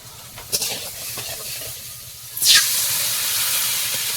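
Water poured into a hot pan of frying ingredients for a fish curry bursts into a loud, sustained sizzle and hiss midway, following softer frying crackle, with no talking.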